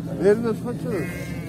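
Merino sheep bleat at a livestock market, a couple of close wavering calls mixed with people talking nearby.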